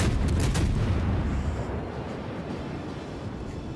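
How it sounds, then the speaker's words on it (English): Naval gun salvo in World of Warships: a loud, deep boom at the start with sharp broadband blasts, rolling into a long low rumble that fades slowly. "We can probably take him out in one salvo"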